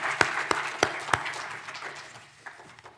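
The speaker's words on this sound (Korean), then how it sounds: "박수로 맞아주시기 바랍니다." A church congregation gives a small round of applause during a Sunday service: a few sharp, distinct claps at first, then scattered softer clapping that fades out.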